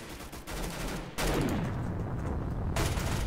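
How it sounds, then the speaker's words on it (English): Rapid automatic hip fire from an M14 EBR rifle in Roblox Arsenal crackles as a continuous burst, dense and loud, with a brief dip before the volley intensifies and runs on. "That hip fire with the M14 EBR, I believe that's what it's called."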